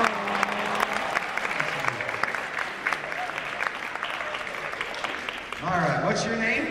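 Audience members at a college comedy hypnotist show give the volunteers a round of applause: steady, crowded clapping carries on throughout while a voice talks over it and a louder swell rises near the end.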